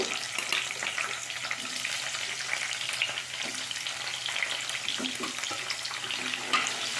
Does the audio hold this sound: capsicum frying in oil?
yes